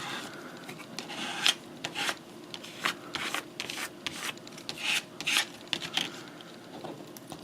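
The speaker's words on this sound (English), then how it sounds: "you want to rub it from the inside out. You just have to rub over the area where the decal is." A vinyl decal rubbed firmly onto a surface through transfer tape makes repeated dry scraping and rasping strokes in an uneven rhythm, close and fairly loud with no talk.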